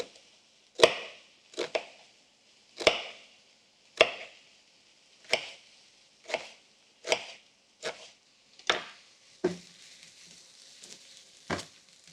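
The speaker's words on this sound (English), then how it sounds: "I'm going to cut the onion down fairly small" A knife chops an onion finely on a board, about a dozen sharp, separate strikes in an uneven rhythm, close and fairly loud with quiet gaps between cuts and no one speaking.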